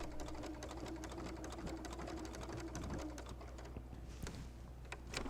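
A sewing machine stitching a quilt for a wall hanging, running in a fast, steady mechanical patter of needle strokes with a low hum underneath, close and fairly quiet.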